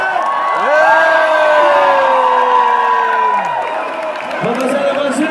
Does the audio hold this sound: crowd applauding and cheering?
yes